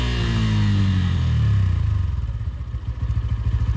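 A Bajaj Pulsar N160 motorcycle engine is held at high revs, then drops back to a steady, rapid, throbbing idle. The bike is close and loud, with no voices.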